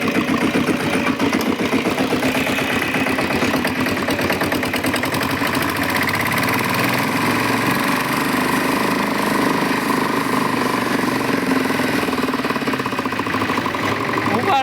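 A tractor engine chugs steadily and loudly on a farm while it drags a stuck water pump motor out, a rapid rhythmic knocking that runs throughout under occasional talk.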